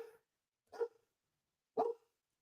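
A small dog at a window gives three short, sharp yaps spaced about a second apart, close by and clear against an otherwise quiet room.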